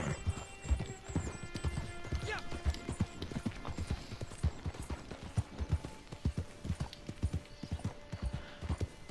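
Horse hooves clip-clop steadily in the video game Red Dead Redemption 2, close and rhythmic, with a tonal game soundtrack underneath and a person talking over the hoofbeats.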